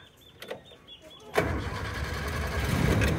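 Motorcycle engine with a repaired overflowing carburetor starting up: faint clicks at first, then the engine catches abruptly and settles into a steady, rough, close idle.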